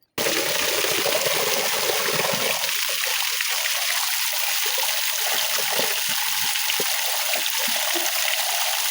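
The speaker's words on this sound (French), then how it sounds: "Il y a des ruisseaux partout" A mountain stream in the Volovské Mountains of Slovakia, rushing and gurgling steadily at close range, loud and continuous with splashing water throughout.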